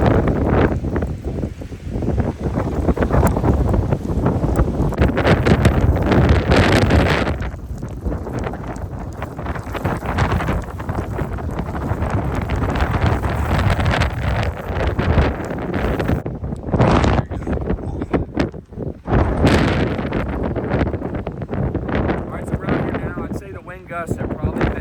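Blizzard winds from an extreme winter storm gust around a winter camp, heavy roaring blasts that rise and ease, loud and close throughout, with occasional voices under the wind.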